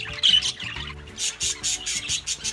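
Pet budgies squawk and chirp in quick, close bursts, a few sharp calls early followed by a rapid run of chattering squawks.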